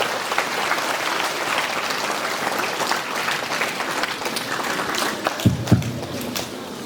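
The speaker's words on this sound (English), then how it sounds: "Let's all give a loud applause and welcome our sir." An audience at a school cultural day claps to welcome a guest, sustained dense applause from a sizeable crowd holding steady, with a few louder thumps near the end.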